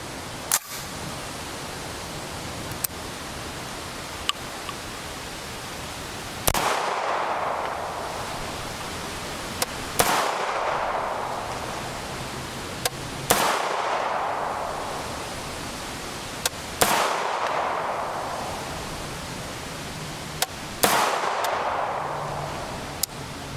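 Unsuppressed CMMG MKG Banshee .45 ACP firing: about five loud, sharp shots spaced a few seconds apart, each with a decaying outdoor echo, over steady wind noise and faint small clicks between them.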